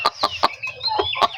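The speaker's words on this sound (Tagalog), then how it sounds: "ang aking mga alagang labuyo" Labuyo junglefowl roosters, part-mestizo pets, give a rapid run of sharp clucks close by, with a short high crowing call drawn out through the middle.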